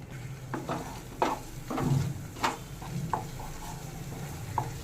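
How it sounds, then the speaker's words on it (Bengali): Spoon stirring aam shotto sandesh mixture with sugar in a pan, soft scraping strokes over a low sizzle, steady and close. "আবার একটু চিনি দিয়ে নেড়ে চেড়ে একটু এটাকে শুকনো করে নেব।"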